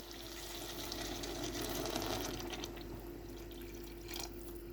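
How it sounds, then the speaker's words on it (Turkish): Lukewarm water poured into a pot of leek stew, a steady soft splashing and trickling with a faint sizzle from the hot pot, close and moderately quiet, no talking. "Çok sıcak değil de ılık. Su ilave ediyoruz."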